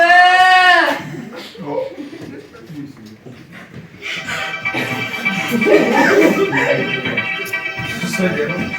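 A performer in a Ukrainian nativity play imitates a goat with a loud quavering bleat at the start, followed by stage talk and a noisy, lively scene with shuffling and voices.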